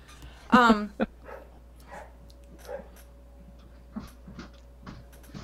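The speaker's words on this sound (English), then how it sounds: "It's your neighbor's dog, eh? It is the neighbor's dog." A neighbor's dog gives a sharp, high-pitched bark or yelp up front, then a shorter second yip, followed by faint scattered sounds and a steady low hum.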